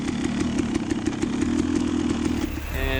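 A KTM enduro dirt bike fitted for snow riding runs along a snowy trail, its engine a steady, buzzing drone that stays close and loud before shifting in pitch near the end.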